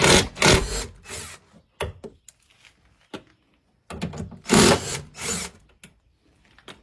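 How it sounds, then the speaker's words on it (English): A power tool or ratchet backs out 10mm bolts during a tow mirror install on a 2014-2018 Chevy Silverado 1500 or Sierra truck door, in two loud whirring bursts separated by quiet clicks and fiddling. "you'll take these 3 bolts out. That's a 10mm bolt."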